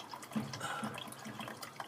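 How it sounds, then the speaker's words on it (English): Deionised water poured from a bottle into a glass beaker, a soft, faint trickle with small splashes and gurgles close by, steady and brief with no talking. "I'm just going to unscrew the top and pour it in"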